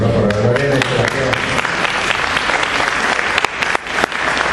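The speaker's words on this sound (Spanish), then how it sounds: "Un aplauso, ¿no?" A crowd breaks into loud, sustained applause that fills the whole stretch, dense clapping with a few sharper claps standing out near the end.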